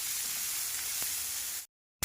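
Onion and other gravy ingredients for matar paneer masala softening in a pan produce a soft, steady sizzle and hiss that cuts off abruptly near the end.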